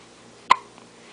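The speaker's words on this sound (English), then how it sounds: "The hiccups make you mad?" A baby gives a single short, sharp hiccup, close and clear against a quiet room, followed by a faint softer echo of breath.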